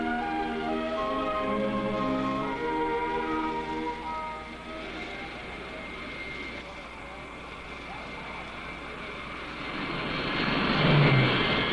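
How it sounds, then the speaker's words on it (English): A presidential jet from 1963 flies from Fort Worth toward Dallas, its engines making a steady, fairly loud drone with a tonal whine that swells toward the end. "The presidential jet leaves Fort Worth for the short flight to Dallas"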